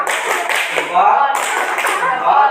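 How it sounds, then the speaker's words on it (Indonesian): Students in a classroom clap together for a classmate who has just presented, a dense burst of applause lasting a couple of seconds with voices mixed in. "Kasih aplaus gimana ya? Tepuk tangan."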